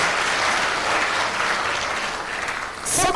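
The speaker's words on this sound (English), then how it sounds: "Let's give the author a round of applause." Audience applause for an author at a book launch, a steady wash of many clapping hands that fills the whole moment and swells slightly near the end.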